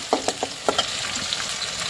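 Green chillies sizzle in hot oil with mustard seeds in a pan, a steady frying hiss. A few sharp pops and crackles stand out near the start.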